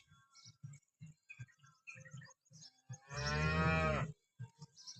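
A cow on a farm lets out one long, loud moo in the middle, surrounded by quieter scattered thumps and rustles from the shed before and after.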